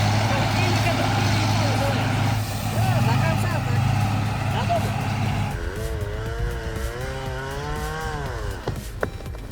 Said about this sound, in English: the timber truck slips. Logs sliding dangerously.